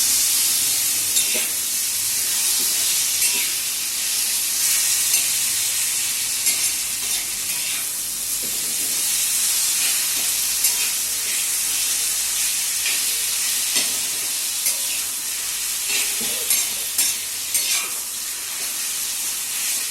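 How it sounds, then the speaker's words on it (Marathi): Crushed brinjal being sautéed and stirred in a pan, a constant hissing sizzle broken by frequent scraping and clinking strokes of the spatula, close and steady. "ठेचलेलं वांग टाकायचं आणि असं छान परतून घ्यायचं"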